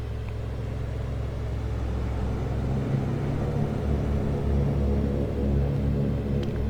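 Saab 340 turboprop engines at ground idle in the X-Plane 11 simulator give a steady, low droning hum with a continuous rumble that holds level throughout, with no voices.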